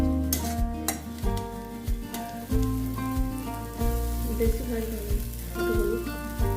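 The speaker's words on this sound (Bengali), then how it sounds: "রসুন কুচো আদা কুচো দিয়ে তার সঙ্গে ভেজে নিতে হবে" Chopped garlic and ginger fry in a hot pan for a mutton paya soup, giving a steady sizzle with stirring scrapes and clatter under a prominent tonal, music-like background.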